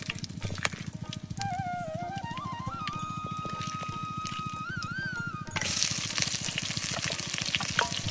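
Onions and chillies frying in hot oil inside a clay pot, a steady bubbling sizzle throughout with a busier, louder crackle in the final seconds, while faint tonal sounds drift in the background.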